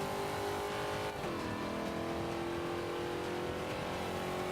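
Race car in Forza Motorsport 5 speeding down a backstretch, its engine droning loudly and steadily, dropping in pitch at a gear shift and then climbing again.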